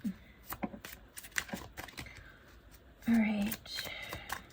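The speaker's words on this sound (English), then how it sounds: "but I will shuffle." Tarot cards are shuffled in quick riffling bursts with soft taps and slaps, close up and fairly quiet, with a brief voice partway through.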